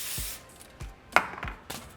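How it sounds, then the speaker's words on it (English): Baking spray hissing from a can onto a sheet of foil for covering a pumpkin flan cake, with short crinkles and taps of the foil between brief bursts of spray. "grab a piece of foil, spray it with some baking spray"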